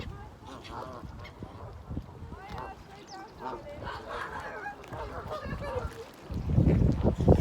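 Geese honking repeatedly at a distance amid outdoor village background noise and a low rumble, with a burst of louder rumbling near the end.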